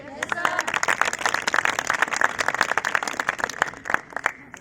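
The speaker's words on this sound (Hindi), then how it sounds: "आप अपने लिए ताली बजा सकते हैं?" Children and teachers clapping for themselves at a training centre, a dense run of sharp overlapping claps that is loud and steady throughout, with some voices mixed in.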